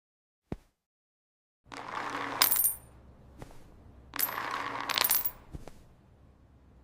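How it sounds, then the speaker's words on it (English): Coins clatter and jingle in a quiet kitchen as they are counted, with a sharp click followed by two longer bursts of metallic rattling and a final clink, close and fairly loud. "while Mongo counts coins in the kitchen"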